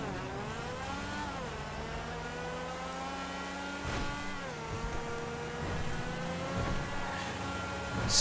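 A Lampadati Tigon sports car engine in GTA 5 Online hums and revs as it drives, pitch climbing through gears with shifts roughly every few seconds, loud and steady with no speech.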